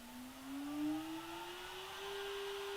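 A CNC machine spindle spins up, a faint whirring tone rising steadily in pitch as it gathers speed, alone and fairly quiet.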